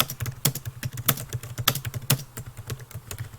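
Rapid, uneven keyboard typing while code is entered on a computer, the clacks close and distinct with a few sharper key hits standing out, and nobody speaking.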